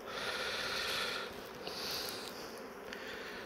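Honeybees buzzing at an open hive crowded with bees, a steady close hum that swells and fades slightly, with occasional sharper wingbeat passes near the ear.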